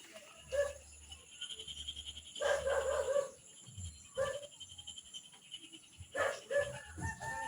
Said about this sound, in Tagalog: Grabing tahol ng aso kagabi dito.